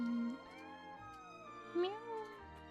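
A cat meows in the Triangle Strategy video game, a short rising-and-falling mew followed by a second higher meow, heard under a low game music bed with a voice speaking around it.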